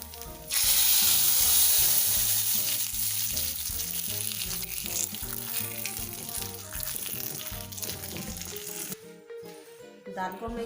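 Hot ghee tempering with garlic, cumin, a pinch of asafoetida and broken whole dried red chillies is poured into dal, setting off a sudden loud, dense sizzle that hisses steadily for about eight seconds, then cuts off, over a faint tonal background.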